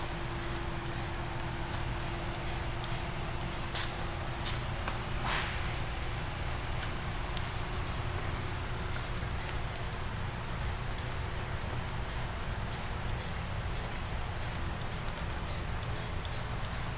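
Aerosol spray paint can hissing in rapid repeated bursts over motorcycle parts from a Kawasaki 454 LTD build, close and steady, with a constant low background hum underneath.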